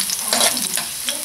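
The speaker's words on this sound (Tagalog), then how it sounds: "So, magigisa na tayo. So, ilagay na natin yung bawang. So, ipa-brownin lang natin ito." Garlic sizzling in hot oil in a frying pan, a steady crackling hiss with soft stirring scrapes, close and continuous, no voices.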